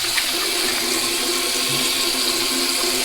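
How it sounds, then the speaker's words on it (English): Hot water gushing from a tap, a loud, steady rushing stream that holds constant throughout with no voices. "let's get some hot water here"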